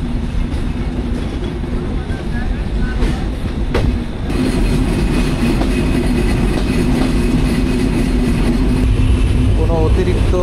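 The Shimanto Express runs steadily along the tracks on the Rajshahi-Khulna line, a loud continuous rumble with rattling carriages and a sharp clank partway through.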